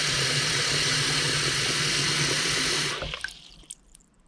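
Water gurgling and trickling as it drains slowly out of a clogged bathroom sink, a steady close wash of sound that cuts off abruptly near the end, leaving only a few faint drips.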